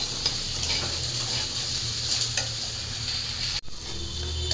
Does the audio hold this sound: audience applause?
no